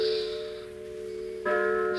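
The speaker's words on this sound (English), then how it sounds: "I heard the tolling of a church bell" Church bell tolling the hour on a Sunday evening before services, its sustained, ringing partials humming steadily, then a fresh strike swelling the tone partway through, fairly loud with no voices.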